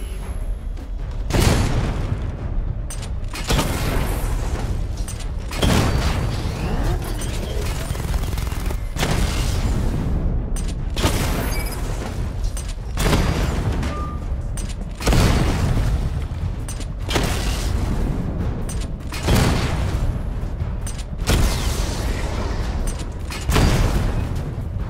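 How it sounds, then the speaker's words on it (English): Heavy booms from a missile barrage in Batman: Arkham Knight rumble on continuously, with sharp impacts repeating at roughly two-second intervals over a dense, loud wash of blasts and mechanical noise. "Charge the missile barrage to Level 2 to destroy up to 4 targets at once"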